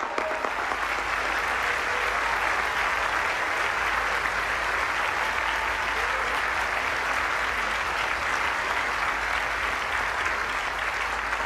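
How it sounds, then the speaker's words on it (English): An audience at a White House dinner breaks into sustained applause, a dense, even roar of many hands clapping that holds steady throughout. "Please give them a big round of applause."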